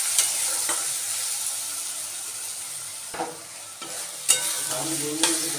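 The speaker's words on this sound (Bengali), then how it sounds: "বেশ ভালো করে এটাকে কষিয়ে নিচ্ছি একদম তেলটা ছাড়বে" Onion, tomato, ginger and garlic paste sautéing in oil for a lote fish dish, a close sizzle broken by several distinct stirring scrapes and clinks from a spatula.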